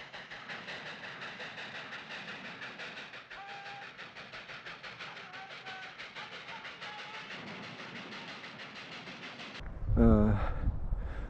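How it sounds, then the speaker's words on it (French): Seventy-ton locomotive running wild in an old film about a train, a loud continuous rumbling rush with rhythmic clatter and whistle-like tones, ending in a sharper burst of noise. "Bert's co-star, a 70-ton locomotive runs wild."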